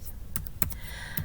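A few quick, close keystrokes tap on a computer keyboard as a username and password are entered, with light clicks in an irregular rhythm and nothing else over them.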